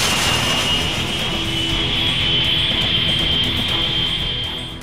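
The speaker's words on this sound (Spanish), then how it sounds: "el vuelo finalmente despega." ValuJet Flight 592, a jet airliner, taking off: a loud, steady jet engine roar with a sustained high whine, continuous throughout and tapering slightly at the end.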